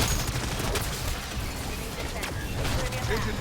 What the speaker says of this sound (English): Shoot some zombies here